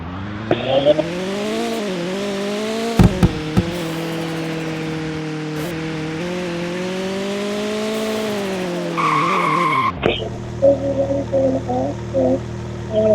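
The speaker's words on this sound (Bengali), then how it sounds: "হুন্ডাটা অনেক আওয়াজ করে।" Honda car racing in the Vehicle Legends video game, with a sustained engine drone rising and falling through gear changes, brief tire squeals, and a sudden cut to a different lower engine idle near the end; no talk.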